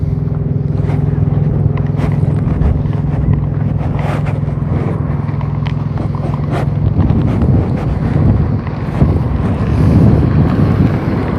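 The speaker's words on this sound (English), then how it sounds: "Dang, it's freaking breezy," Outdoors in Friona, Texas on a breezy, chilly day, heavy wind buffets the microphone in a loud, constant rushing roar with gusty thumps, over a low hum that fades partway through.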